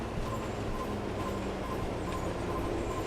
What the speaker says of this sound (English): Oh, I see a train.